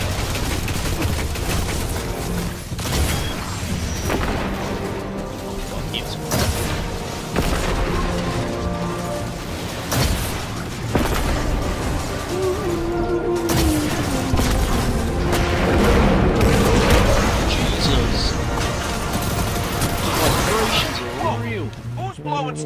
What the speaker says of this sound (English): That blast knocked a few more cell blocks open.